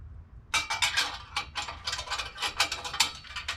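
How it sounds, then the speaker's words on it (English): Serrated-back nuts on an intake pipe clamp ratcheting as they are tightened during a Flashark Racing cold air intake install, a rapid run of sharp metallic clicks, close and fairly loud, with no talking. "You hear that ratcheting? It's because it's got these nuts with the serration on the back side"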